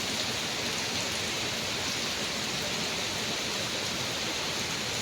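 Heavy, steady rain pours down as a park floods after two days of downpour, forming a dense, loud, unbroken wash of water noise with no break over the whole stretch.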